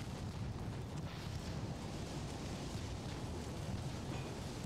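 Naval gunfire rumbles continuously in the naval battle game Ultimate Admiral: Dreadnoughts, a dense, steady low roar of distant broadsides and explosions with no distinct individual shots.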